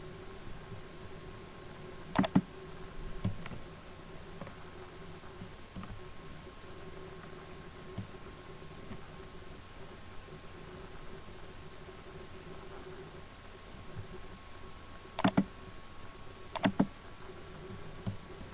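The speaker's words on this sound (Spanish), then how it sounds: "Vamos a hacer clic derecho, agregar nueva tabla." Computer mouse clicks and light keyboard tapping while a table is created, sparse and quiet over steady background hiss, with a few sharper clicks standing out at intervals, no talking.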